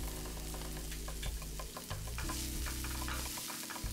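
Butter sizzling as it is added to onions and garlic sautéing in a pan for a red wine risotto, with a steady frying hiss and occasional stirring scrapes throughout, no talk.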